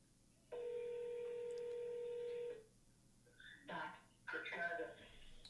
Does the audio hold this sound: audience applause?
no